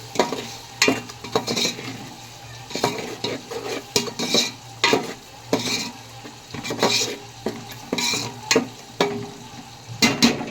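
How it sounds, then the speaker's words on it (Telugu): Tomato paste frying in oil for Telangana-style fish pulusu, stirred with a utensil: repeated scraping strokes against the pan come in an uneven rhythm over a soft continuous sizzle, close and fairly loud, with no voices. "ఇప్పుడు టమాటా పేస్ట్ వేసుకుందాం. ఒకసారి మిక్స్ చేసుకుందాం."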